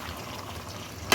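Food being stirred in a pot over the heat, with a steady sizzling, frying texture close by and a brief louder scrape or clatter near the end.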